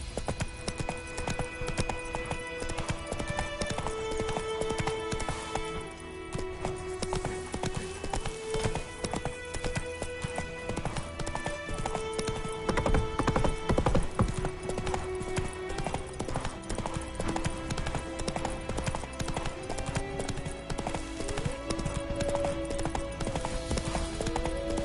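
Roach, the horse in The Witcher 3: Wild Hunt, gallops with a rapid, steady clip-clop of hooves over a swelling in-game musical score, with only brief traces of voice.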